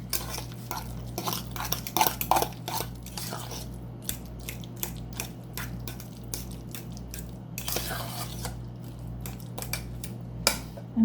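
A spoon scrapes and stirs through a seasoned lasagne filling in a bowl, with repeated soft clinks and scraping strokes over a steady low hum in a kitchen.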